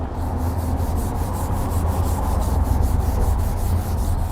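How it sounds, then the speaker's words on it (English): Rough, contaminated car paint under a rubbing hand makes a loud, close, gritty swishing in quick even strokes, about four per second, over a low steady rumble, with no voices. "you can definitely hear it when you go ahead and kind of rub your hand over the paint"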